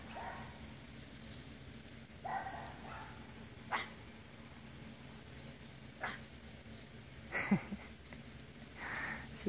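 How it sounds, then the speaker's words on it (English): A pet monkey gives short, scattered dog-like barks outdoors, about five brief bursts spread over several seconds at moderate distance against quiet background hiss. "She's barking at the dogs."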